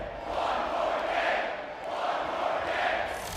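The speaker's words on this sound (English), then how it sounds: "the crowd will say, one more game, one more game" An esports arena crowd at the Apex Legends championship finals chants in unison, a loud rhythmic two-beat chant repeating in steady swells with no commentary over it.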